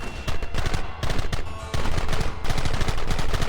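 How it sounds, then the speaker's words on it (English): Gunfire in a Red Dead Redemption shootout: dense, loud volleys of rapid shots overlapping into a continuous barrage with brief pauses, heard alone without talk. "Fingers on the triggers, boys. There they are! Open fire!"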